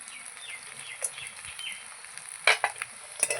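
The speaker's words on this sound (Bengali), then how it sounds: "আলুর সঙ্গে আমি এই কাঁকড়াও দিয়ে দেবো দিয়ে আমি কষিয়ে নেবো ভালো করে" Live crab and potatoes fry and sizzle in spices in a pan, a steady hiss broken by a few louder stirring scrapes and clatters near the end, with no talking.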